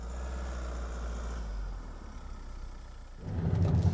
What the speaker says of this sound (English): It's a rattly diesel engine, particularly when you get your foot down.